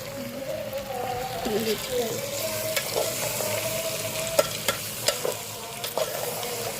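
Washed goat head pieces being stirred in a pot over a wood fire, with a steady sizzle and repeated scraping, clinking strokes while people talk throughout.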